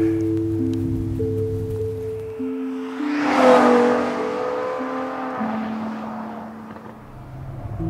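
A 2013 Ferrari F12 Berlinetta on Italian country roads, its engine note rising and falling through gear changes, swelling to a loud, close peak mid-clip before easing off, with no talk.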